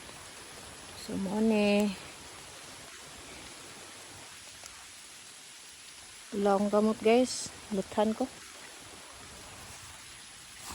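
Rain falls steadily on a backyard vegetable garden, a constant soft hiss running the whole time beneath two short stretches of a person talking.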